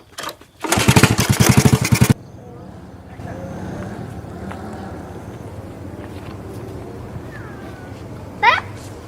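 An old, worn-out motorcycle engine starts up with a loud, sputtering roar that lasts about a second and a half, then cuts out. Quieter background noise follows, and a brief sharp sound comes near the end.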